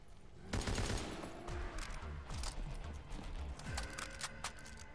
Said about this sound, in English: I'll take a Lewis gun.